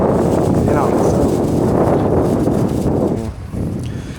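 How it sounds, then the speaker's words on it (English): Strong wind buffets a tent at a campsite, a loud continuous gusty roar and flapping rustle that eases slightly near the end. "It's so windy, it's trying to fold my tent"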